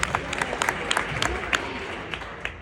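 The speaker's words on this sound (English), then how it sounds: "Let's give him a big hand." An audience at a live show in Lake Mills claps steadily, a dense patter of many hands under a crowd murmur, fairly close and even throughout.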